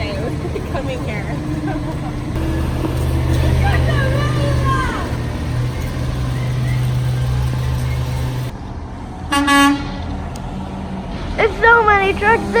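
Garbage trucks idle in their yard before the morning route, a low, steady diesel rumble lasting most of the stretch before dropping away. Excited children's voices chatter and exclaim over the engines.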